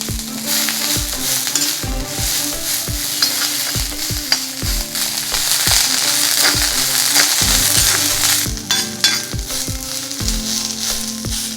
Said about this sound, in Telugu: ఈ కొత్తిమీరని three to four minutes fry చేసుకున్న తర్వాత వేరే ప్లేట్లోకి తీసి పెట్టుకోవాలి